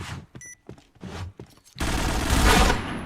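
Gunfire in a Point Blank esports match: a few short shots and thuds with a brief beep give way to a loud, dense burst of shooting that fills the final second or so.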